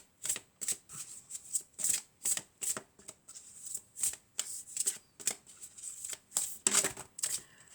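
Oracle cards shuffled by hand in a quick, irregular series of crisp riffling flicks, close and clear with no talk over them.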